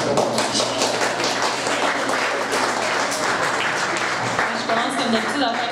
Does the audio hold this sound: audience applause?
yes